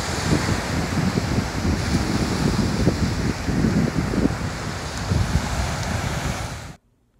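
Surf rolls steadily onto a beach under strong wind buffeting the microphone, a continuous loud roar with no voices, cutting off abruptly at the end.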